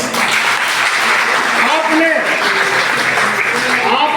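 Crowd applause at an Ambedkar Jayanti celebration honouring a retiring hospital employee in Udaipur, steady clapping throughout with a voice talking over it and some tonal sound rising in the middle.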